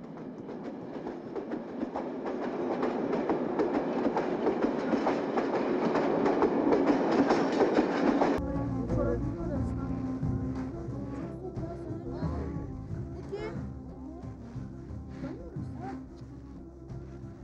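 A train rumbles steadily along rails with dense, broadband clatter that swells through the first half, then shifts abruptly to a quieter interior-like hum with rhythmic clicks; voices are faint underneath.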